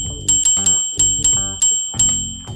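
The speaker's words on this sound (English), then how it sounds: "people may keep on ringing our doorbell" Cartoon doorbell ringing in a quick run of bright metallic dings, about seven strikes each decaying before the next, loud and close with no voices.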